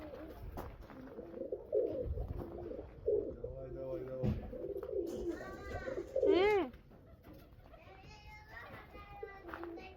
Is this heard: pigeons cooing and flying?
yes